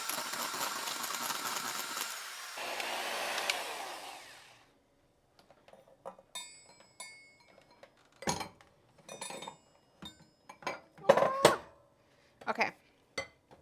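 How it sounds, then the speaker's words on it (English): A whisk or electric beater fluffs egg whites in a bowl, giving a dense, close whirring rush for several seconds that then stops, followed by scattered clinks and taps of utensils against the bowl. "we're gonna fluff up the egg whites a little bit more"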